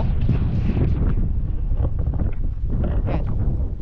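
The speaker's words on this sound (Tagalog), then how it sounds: "napakalakas ng hangin" Strong wind roars against the microphone outdoors at a scenic spot in Ilocos Norte, a loud continuous buffeting rumble with gusty surges throughout, no voices.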